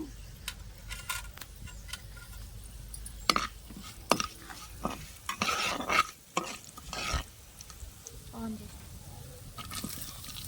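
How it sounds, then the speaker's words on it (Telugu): Coriander and cumin seeds fry in a spoonful of hot oil in a pan while being stirred, with soft sizzling and scraping under a person talking. "కొంచెం నూనె వేసుకుందామండి ఇందులో ఒక స్పూన్ ధనియాలు ఒక స్పూన్ జీలకర్ర వేసి వేయించుకుందాం"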